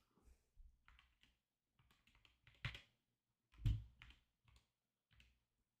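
Sparse, faint taps on a computer keyboard, with irregular clusters of quick key clicks and short pauses in a quiet room.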